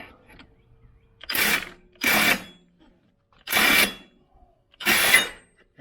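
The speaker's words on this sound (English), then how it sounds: "Now I'm going to switch over to the 1-inch impact driver" A 1-inch impact driver hammering at the clutch of a 2019 Polaris RZR 900, four loud, close rattling bursts of about half a second each, separated by short quiet gaps.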